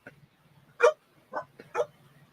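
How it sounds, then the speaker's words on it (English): A dog in a kitchen gives three short, separate whimpering yelps and barks over about two seconds, moderately close and fairly loud against a quiet background. "Dogs, they know."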